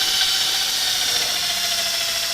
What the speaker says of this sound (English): you're just going to put the drill on there, slowly start it up so you try to avoid fling